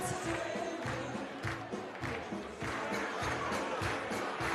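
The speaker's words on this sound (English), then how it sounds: "we can hear the crowd. They are getting ready, they're getting noisy" A darts championship crowd murmurs and calls out in a hall before the fifth set, a busy, rising chatter with scattered shouts and voices at moderate level.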